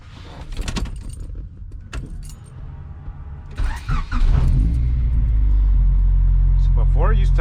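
A Honda VTEC car engine cranks with keys jangling and voices nearby, then catches around the four-second mark and settles into a loud, steady idle rumble that runs to the end.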